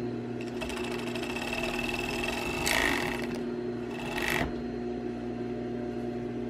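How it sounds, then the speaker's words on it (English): A sewing machine runs steadily as it stitches a hem on pajama fabric, a close, continuous whirring hum with two brief louder bursts partway through. "And you just sew right along there."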